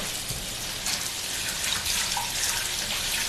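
Tap water runs steadily into a sink as something is rinsed, a close, continuous hiss and splash with no voices.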